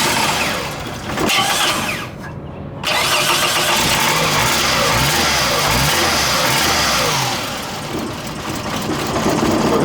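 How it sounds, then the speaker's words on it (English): A car engine with a newly installed starter cranks and catches, then runs rough and uneven with a loud, steady chugging idle that continues to the end, with no talk over it. "So here it is started, but the engine is running very poorly."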